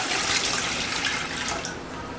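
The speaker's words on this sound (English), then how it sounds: "It is 3 quarts of filtered water that we add to it." Filtered water pours steadily into an electric canner, three quarts in all. It makes a continuous, fairly loud splashing rush with no voices over it.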